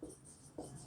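Chalk writing on a board during a chemistry lesson on hydrogen bonding: a quiet, close scratching and tapping texture across the whole second, with two brief, slightly louder strokes at the start and just past the middle.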